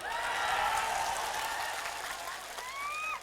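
An audience at a political rally applauds in a sustained wash of clapping, moderately distant, fading slightly toward the end with a brief tonal sound near the close.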